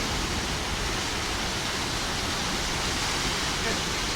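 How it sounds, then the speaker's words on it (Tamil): A stream flowing near Valparai, a dense, steady rush of running water heard up close and filling the whole short stretch without pause. "தண்ணி அவ்வளோ அங்கே ஓடுது."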